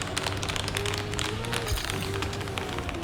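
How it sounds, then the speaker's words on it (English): Dense layered hand claps built from over a hundred separately recorded samples, ranging from quiet to loud, producing a continuous crowd-like patter of overlapping sharp slaps with a faint tonal drone underneath. "I'm still kind of happy with how the claps sound"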